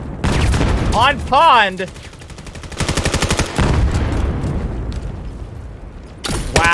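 Grenade blasts and rapid gunfire from a multiplayer shooter game match erupt in loud bursts with booming impacts, while an excited commentator talks over the action.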